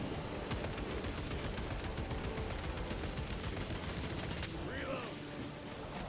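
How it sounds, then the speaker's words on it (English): Gunfire from shooting in Warhammer 40K Space Marine 2: dense, continuous rapid-fire shots rattling steadily through the whole stretch, loud and near, under someone talking. "I'm trying to hit the eye. I'm like shooting right at it."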